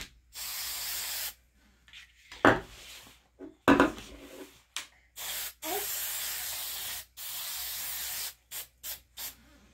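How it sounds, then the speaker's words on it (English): An aerosol can sprays in a series of short hissing bursts, some longer and some quick, separated by silence and a few light clicks and knocks. "you only have to spray"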